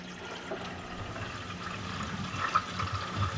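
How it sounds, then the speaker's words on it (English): Water runs steadily into a tank or basin to fill it, a soft continuous gushing and trickling that swells slightly near the end. No voices are heard. "Add water."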